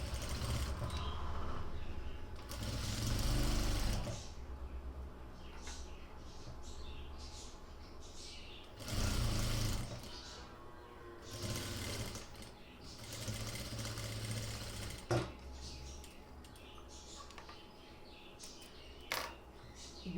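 A sewing machine stitches a kurti sleeve in loud close bursts of rapid whirring, separated by quieter gaps with small handling noises and someone speaking softly.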